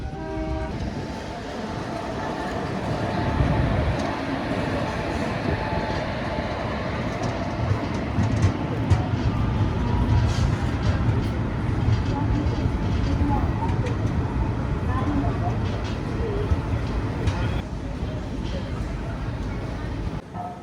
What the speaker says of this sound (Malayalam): കോഴിക്കോട് JS 7ാമത്തെ പ്ലാറ്റ്ഫോമിൽ കയറിക്കൊണ്ടിരിക്കുകയാണ്